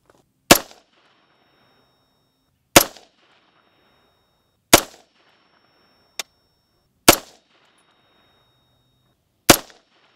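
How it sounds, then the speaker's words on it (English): Five sharp unsuppressed 17 WSM rifle shots from an F17X fired at 50 yards, evenly spaced about two seconds apart, each a loud crack with a brief decay, plus one small click between them. "first up, unsuppressed, shooting this at 50 yards,"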